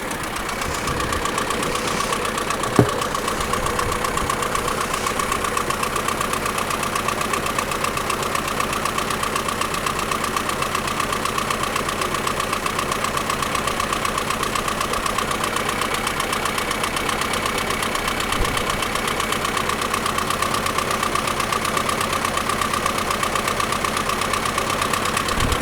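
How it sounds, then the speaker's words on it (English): An engine idles steadily and close by with a constant whine from a worn water pump bearing running under the mechanical drone, with a single sharp knock early on and no talking. "Definitely hear a water pump bearing there, I think."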